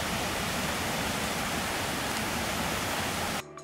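A waterfall pours over rocks in autumnal Scotland, giving a steady, dense, close-up rushing roar with no let-up until it cuts off abruptly just before the end.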